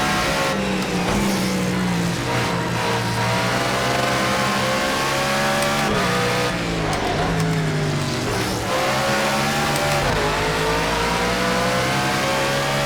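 A BMW Z4 GT3 race car in Project CARS 2 roars steadily at high revs, with rising and falling pitch through gear changes and brief tire squeal, loud and continuous throughout.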